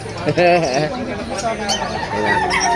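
Chickens cluck and a rooster calls among other fowl, close by at a pet market, while people talk over the birds.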